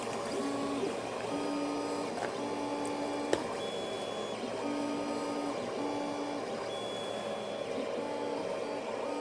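A 3D printer prints a Christmas gift, its stepper motors whining in short repeated tonal runs and pauses over a steady mechanical hum, close and continuous with no talking.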